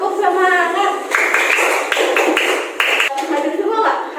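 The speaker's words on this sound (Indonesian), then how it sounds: "Tepuk semangat." A school class doing a rhythmic spirit clap in Indonesia, hands striking in a patterned sequence of quick claps mixed with children's chanting voices, close and lively.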